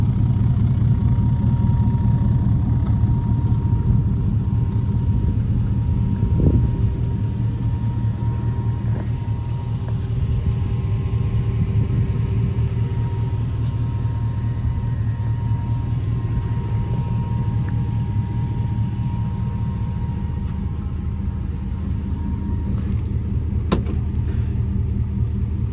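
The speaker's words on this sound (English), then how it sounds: "Custom exhaust." A 1980 Chevrolet C10 pickup with an LS2 V8 and custom exhaust idles with a deep, steady exhaust rumble, running continuously and close by with no one speaking.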